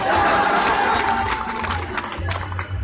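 Audience at an Urdu mushaira poetry recital claps and cheers in a loud, continuous burst of crowd applause that fills the whole moment.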